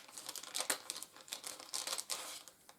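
Packaging for a Star Wars Legion Wookiee miniatures set crinkles and rustles as it is opened by hand, with bursts of plastic and cardboard crackling close by and short pauses between them.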